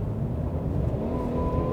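Steady, full engine drone from a 2021 Mercedes E350 4Matic driven in comfort mode at night, a continuous low rumble with no break as the car accelerates, with no talking over it.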